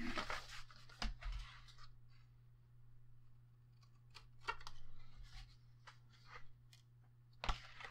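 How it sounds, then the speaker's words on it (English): Scissors or a blade trimming the corners of chipboard for a handmade box, heard as scattered crisp snips and crunches with quiet pauses, close and faint against a low steady hum. "go ahead and cut off those corners there"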